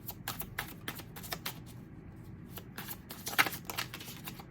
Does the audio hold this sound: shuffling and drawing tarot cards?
yes